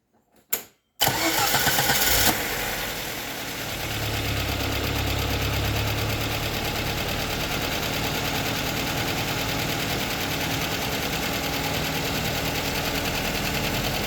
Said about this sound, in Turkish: aracımız çalışıyor